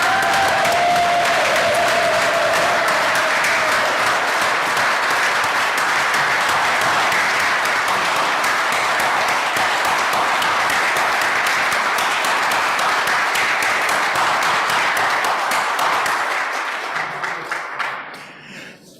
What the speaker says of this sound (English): Please stand with me and provide thunderous applause to honor our illustrious seven.